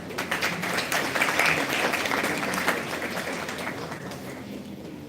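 Audience applause welcoming a chief guest at an International Women's Day celebration at Lloyd Institutions, a steady wash of many hands clapping in a hall, moderately loud and sustained, with faint voices underneath.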